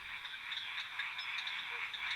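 A dense chorus of small mantella frogs calling in Madagascar, a continuous high chirping wash with faint scattered clicks, steady and fairly soft, with no voices over it.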